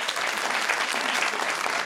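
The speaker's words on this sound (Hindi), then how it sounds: "तालियां।" Studio audience applause on an Eid special television comedy show, a steady, dense burst of clapping that fills the whole short moment without a break.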